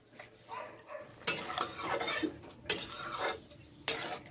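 Vegetable curry with coriander leaves is stir-fried in a pan, with repeated scraping strokes of a spatula against metal over a faint sizzle, the scrapes coming in irregular bursts, close and fairly quiet.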